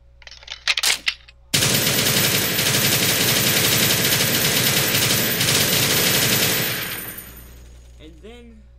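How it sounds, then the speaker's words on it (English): An MG42 machine gun on a Lafette mount fires in a video game. A few short shots come first, then a loud, sustained burst of several seconds that fades into quiet echoes. "MG42 Lafette mount."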